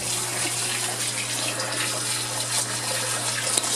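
Water from an aquarium return pump line pours into a sink in a steady, continuous rush with no pauses, close and fairly loud, with a low constant pump hum underneath.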